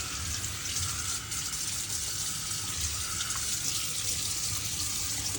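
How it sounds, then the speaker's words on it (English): Water runs steadily from a tap while a sink is rinsed out, a continuous, even rushing hiss that stays constant throughout without any talking. "just rinsing out the sink really well so that we can move on to the next thing"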